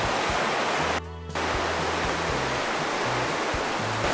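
A river flows beside a mountain path with a loud, dense, steady rush of water that briefly dips for a moment, while soft low thuds sound in the foreground.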